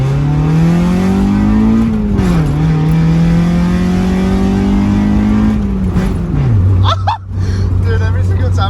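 Mazda Miata with a muffler delete driving hard: a loud, raspy, steady engine drone that rises and falls in pitch, then drops sharply near the end as revs fall, with faint voices underneath.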